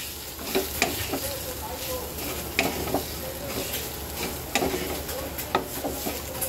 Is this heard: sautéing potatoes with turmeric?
yes